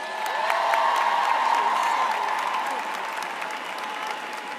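A Spelman College commencement crowd applauds Taraji P. Henson, with sustained dense clapping mixed with cheers and whoops, and a voice faintly underneath.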